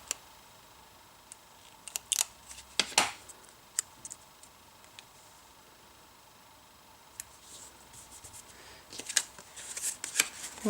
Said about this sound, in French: je retourne ma perfo pour voir où je perce